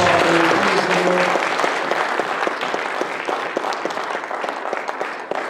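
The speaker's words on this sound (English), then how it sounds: "Let's give the Lord one more great big clap" A church congregation claps steadily, a dense patter of many hands that carries on throughout, with a brief voice at the very start.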